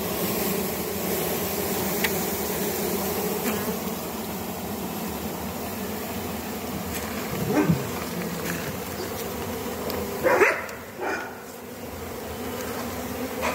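Honeybees newly brought to a homestead buzz steadily and densely throughout, close and continuous, with a few brief knocks and rustles partway through and no talking.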